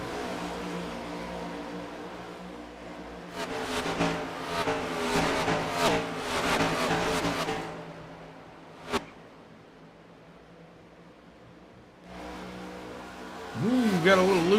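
Race car engines drone and rev through laps of NASCAR Next Gen sim racing, swelling loud mid-clip with layered engine tones, dropping to a quieter hum, then surging again near the end.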